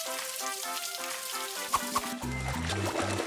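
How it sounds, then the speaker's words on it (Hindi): Water is turned on and pours in an animated game scene, a steady splashing stream running beneath light background music. "पानी चालू कर रही हूँ।"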